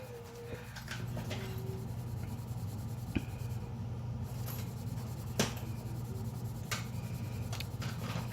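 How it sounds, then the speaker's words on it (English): Graphite pencil shading on paper, a soft, steady close scratching that continues without a break, with a few faint taps and no speech. "In this case, though, we're just using the layers of graphite."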